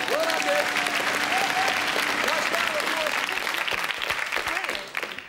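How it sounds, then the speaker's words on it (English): TV studio audience at a comedy panel show giving a warm round of applause, loud and continuous, with a host's voice speaking over it before the clapping tapers off at the end. "A nice round of applause. Well done, Dick."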